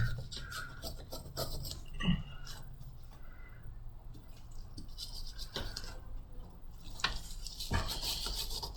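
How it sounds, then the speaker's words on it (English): A brush scrubbing flux off a Nintendo Switch circuit board during a charge port replacement: quiet, steady raspy rubbing strokes repeating throughout, with occasional small knocks. "Probably need to scrub a little harder here."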